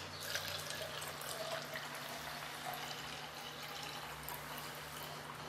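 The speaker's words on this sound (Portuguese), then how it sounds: "vou colocar água quente" Hot water pours steadily into a container while making homemade dish detergent from Cristal paste soap, a continuous close splashing and trickling over a low hum, with no talking.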